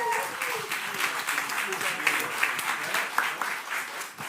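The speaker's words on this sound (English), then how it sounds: "Give Terry a wild round of applause." An audience at a leadership forum claps steadily for a speaker named Terry, a dense, moderately loud patter of many hands, with some voices murmuring beneath it.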